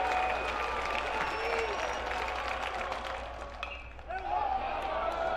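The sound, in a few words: baseball crowd cheering on its feet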